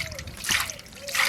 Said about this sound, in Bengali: ঠান্ডা জলে ধুয়ে আনছি।